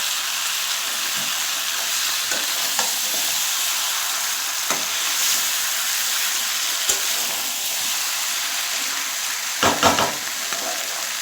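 Duck meat fries steadily in a pan, a dense continuous sizzle with occasional stirring scrapes and a louder clatter near the end, no voices.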